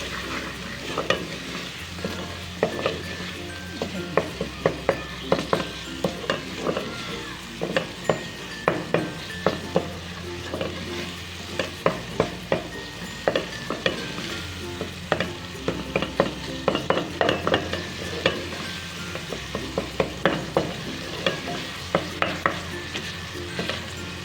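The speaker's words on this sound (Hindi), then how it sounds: "मसाला भूनते हैं हम इसे।" Chopped tomato and spice masala fries in a pan for khatti daal while a spoon stirs it, giving a steady sizzle broken by repeated sharp scraping clicks against the pan in an uneven rhythm.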